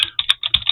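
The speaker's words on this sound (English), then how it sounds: "I just hit tab after typing doc" Rapid clicks of a computer keyboard while someone writes HTML and JavaScript code, arriving as about six close, crisp bursts of keystrokes in under a second, with no voice.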